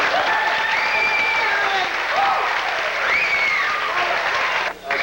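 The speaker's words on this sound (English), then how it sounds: "I would like to extend a round of applause to Grace Valzerano and her staff." Applause fills a 1992 West Essex football dinner: dense, sustained clapping from a crowded room throughout, with voices rising over it before it tapers briefly at the end.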